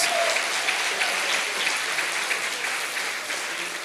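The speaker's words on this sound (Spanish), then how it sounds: "Denle un aplauso fuerte al Rey de Reyes" Church congregation applauding loudly and steadily, a dense, even roar of many hands clapping together that holds for the whole stretch with little talking.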